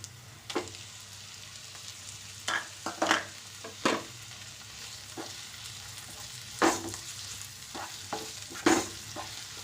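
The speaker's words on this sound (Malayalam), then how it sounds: "ഇനി നമുക്ക് അരിഞ്ഞു വെച്ചിരുന്ന തക്കാളിക്കായിട്ട് കൊടുക്കാം." Chopped tomatoes sautéing in a pan with crushed fennel for a banana curry, a steady low sizzle broken by several sharp stirring scrapes and clinks spread through the stretch, no voices.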